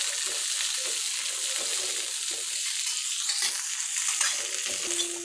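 Cluster beans (gavar) frying in hot oil, a dense, steady hiss and crackle heard up close, with light stirring throughout.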